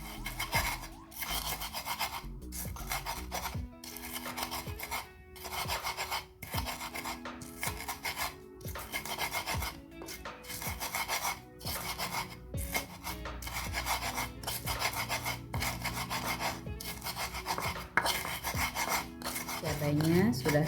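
Chili and salt ground in a stone mortar (ulek) with a stone pestle, giving repeated rhythmic rasping, rubbing strokes in a fast, steady back-and-forth pattern with brief pauses, close and clear.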